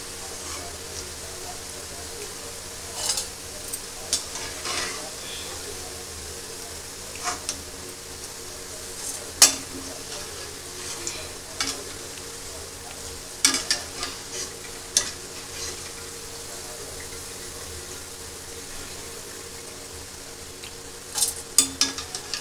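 Bitter gourd frying in hot oil makes a quiet, steady sizzle, broken by scattered sharp ticks and clicks as it is stirred, with no clear talk over it.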